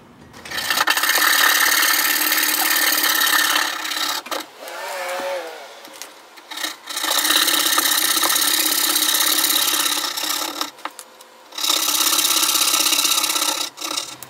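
A Japanese ryoba saw cuts wood for dovetail drawers in three long bursts of steady, rasping strokes, close and loud, with brief quieter pauses between them.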